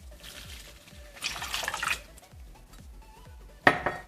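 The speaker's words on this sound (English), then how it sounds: "in this bowl, I'm going to first mix together psyllium husk, ground flax seeds, and then the water" Psyllium husk, ground flax seeds and water are stirred together in a bowl for gluten-free sourdough bread, producing soft liquid swishing, light utensil clinks against the bowl and a louder clatter near the end.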